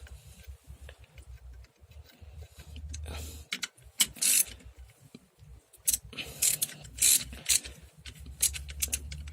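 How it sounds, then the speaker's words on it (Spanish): A 16 mm socket ratchet with an extension tightens the bolts of a car's right front engine mount, giving bursts of quick, close clicking separated by short pauses. "ya solamente con el dado de 16 milímetros y la extensión proceden a apretar"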